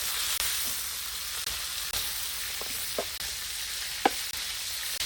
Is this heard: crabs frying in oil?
yes